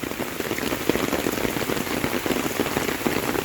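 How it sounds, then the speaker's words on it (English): Heavy rain pouring steadily during a rainstorm, a dense, loud, even hiss of drops striking surfaces close by, with no voices. "a heavy rainstorm like this"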